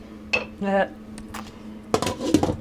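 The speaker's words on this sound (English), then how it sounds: "Put a lid on it." Metal lid set onto a pot of simmering cream of tomato soup, giving a couple of close clanks and clinks, with a voice briefly speaking between them.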